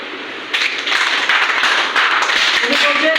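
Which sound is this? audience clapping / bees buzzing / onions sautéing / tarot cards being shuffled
audience clapping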